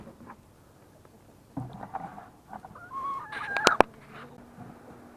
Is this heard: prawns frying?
no